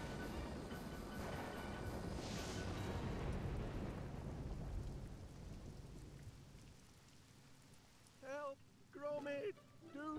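Heavy rain in the video game Wallace and Gromit's Grand Adventures roars loudly at first, a dense wash of noise that gradually fades, followed by a few short bursts of other sounds near the end.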